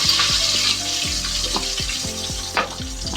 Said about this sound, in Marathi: आता आपण तेल तापलं आहे, तर कढीपत्ता टाकूया.